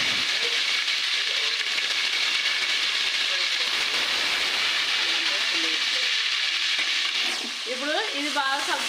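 Tomatoes frying in a pan with curry leaves and green chilies, a loud steady sizzle holding throughout, with a voice speaking briefly over it near the end.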